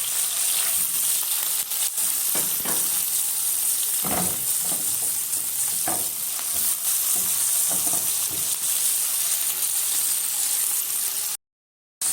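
Chicken liver stir-fries in a pan, a steady close sizzle broken by scraping flips of a utensil, ending abruptly in silence.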